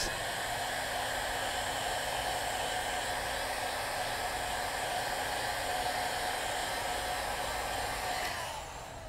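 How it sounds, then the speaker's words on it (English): Heat gun blowing hot air over scratched high-gloss vinyl wrap film, a steady loud broadband whoosh running continuously and cutting off near the end. "grab your heat gun, go to the top film and heat"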